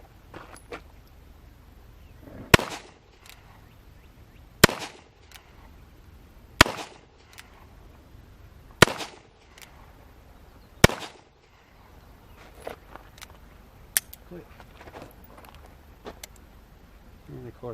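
A Traditions Big Bore revolver fires five sharp, loud shots outdoors, spaced about two seconds apart, each followed by a short echo, with fainter handling noises and distant sounds afterward.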